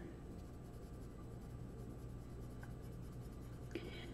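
Colored pencil scratching steadily across paper in small circular strokes, a soft continuous close-up rasp with a faint low hum beneath and one brief sharper tap near the end.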